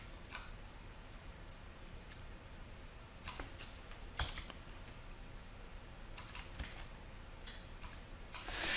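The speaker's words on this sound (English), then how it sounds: "You're going to type IPv6 address" Keys clacking as an IPv6 address is typed into a router interface on a computer keyboard during a networking exam walkthrough, sparse irregular clicks in short bursts, close and moderately quiet over a faint steady room hiss.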